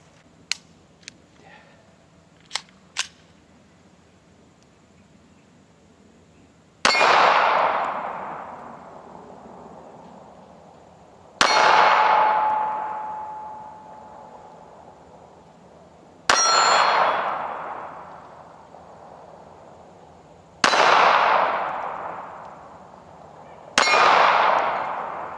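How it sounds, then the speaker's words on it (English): Smith & Wesson Bodyguard 380 pistol shots ring off metal targets 12 yards away, several loud clangs each followed by a long, fading metallic ring, evenly spaced with quiet gaps and a few faint clicks beforehand. "These are metal targets that I'm shooting at, and they are 12 yards away."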